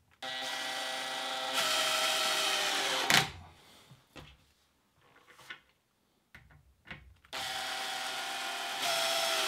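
A power driver sets two screws to fasten the guards onto a wooden European cup hinge jig. Two long, close buzzing runs are separated by a quieter stretch of light knocks and handling clatter.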